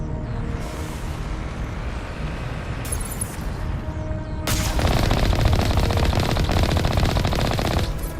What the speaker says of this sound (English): Wait, how am I shooting at that wall?